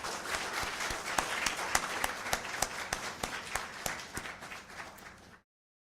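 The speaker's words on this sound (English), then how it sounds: "Shall we have a round of applause" Applause at a university convocation for the Faculty of Management, with a room full of clapping and several sharp individual claps standing out, continuing steadily for about five seconds before cutting off abruptly.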